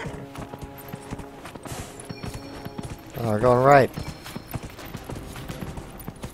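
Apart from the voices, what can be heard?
horse galloping in Dragon Age: Inquisition video game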